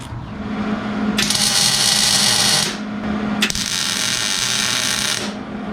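Two bursts of tack welding on a steel roll cage bar for a drift car chassis, each a loud crackling buzz lasting about one to two seconds, close up, with a brief gap between them.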